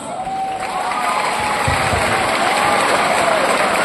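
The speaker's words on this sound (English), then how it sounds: "Indeed, they all deserve a round of applause." Audience applause at a graduation ceremony, sustained clapping with some cheering that builds and holds steady, a tone ringing faintly over the crowd.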